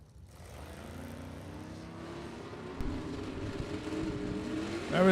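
Drag race cars at a Super Pro, Pro Eliminator and Sportsman event, among them a 1953 Studebaker, roar steadily from a distance and build toward a louder, nearer engine surge at the end.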